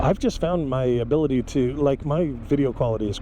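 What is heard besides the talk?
No everyday noise stands out behind the speech.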